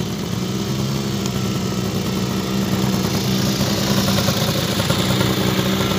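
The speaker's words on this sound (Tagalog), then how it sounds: "Ito yung motor ko." A motorcycle engine idles steadily nearby in the red sand area of Unaizah, Saudi Arabia, a continuous low rumbling chug with no talking.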